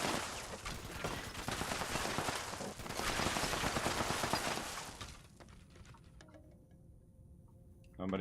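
Sustained gunfire in the Fallout 76 video game, a loud dense barrage of rapid shots for about five seconds that then drops to a quieter room tone with faint scattered sounds.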